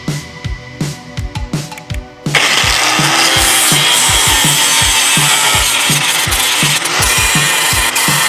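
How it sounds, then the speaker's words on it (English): An angle grinder grinds sharp edges off metal intercooler and radiator mounts for a B2200 turbo engine build, a loud, steady abrasive whine over an ongoing rhythmic thumping, following a few seconds of quieter machine ticking. "now's a good time to grind off all these sharp edges around here."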